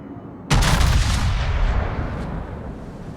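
A warship's main guns fire in World of Warships, a sudden loud booming blast that rolls into a long rumbling decay with a faint secondary crack, alone with no talk.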